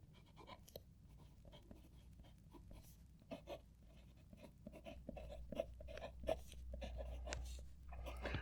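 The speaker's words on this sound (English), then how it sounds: "we'll write with the TWSBI" TWSBI fountain pen with a 1.1 stub nib writing on paper, a soft, continuous scratchy rasp of strokes close up, faint and steady with no talk.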